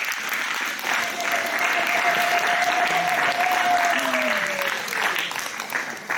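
Church congregation applauding steadily and loudly throughout at a children's Ecodim day gathering, with a faint sustained tone gliding down over the clapping.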